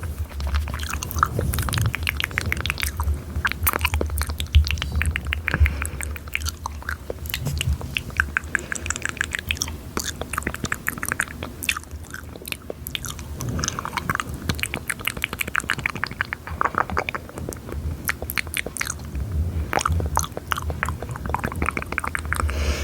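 Close-miked ASMR mouth sounds, a continuous stream of wet smacks, clicks and chewing-like squelches right against the microphone, steady and intimate throughout with no talking.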